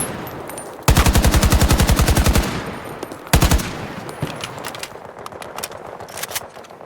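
Rapid automatic gunfire from Call of Duty Modern Warfare 2, with two loud bursts of close, evenly spaced shots and scattered single shots and ambient battle noise between and after them.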